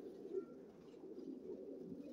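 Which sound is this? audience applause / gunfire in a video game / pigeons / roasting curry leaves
pigeons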